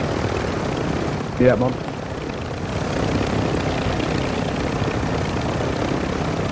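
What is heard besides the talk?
helicopter in a video game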